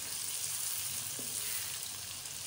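Onions frying in a pan while cooking chicken biryani, a faint steady sizzle with a soft hiss running throughout, quiet and even with no talking.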